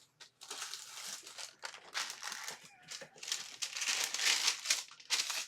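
Paper crinkles and crumples continuously up close while being prepared for an explosive canvas craft, with dense rustling bursts and brief pauses throughout.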